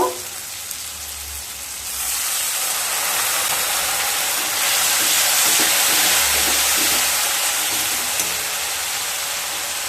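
Water poured into a pan of sizzling spices for drumstick curry, setting off a loud hiss and crackle that swells, eases slightly, then surges again and keeps sizzling steadily throughout.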